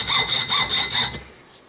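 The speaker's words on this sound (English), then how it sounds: "Just trim them with a saw" A hand saw trims small metal tabs on a ramrod thimble in five quick, close, rhythmic rasping strokes, then stops, with no one talking.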